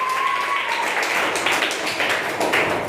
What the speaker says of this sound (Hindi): इनके लिए जोरदार ताली बजाइए